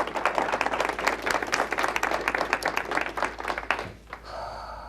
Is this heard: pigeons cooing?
no